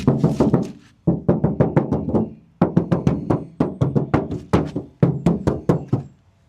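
Knuckles rapping a car door panel with no sound deadening on a 2000s R52 MINI, several fast bursts of sharp, hollow knocks in quick runs, close and loud with brief pauses between groups.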